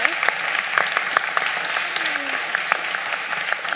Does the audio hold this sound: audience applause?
yes